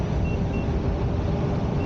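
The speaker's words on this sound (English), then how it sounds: "with the Shermans, there's so much beeping going on" A Sherman S electric unicycle emits high warning beeps, a few short tones sounding over loud, steady wind and road rumble while riding outdoors.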